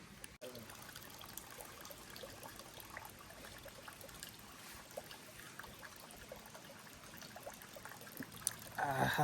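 Spring water trickling gently in a forest in Korea, a faint continuous dribble heard close and quiet, with a brief louder splash or rustle right at the end.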